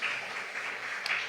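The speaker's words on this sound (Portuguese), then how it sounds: "Dê uma salva de palmas pela palavra do Senhor Jesus" A church congregation claps together in a short, dense burst of applause that holds steady for about a second and a half, with no voices over it.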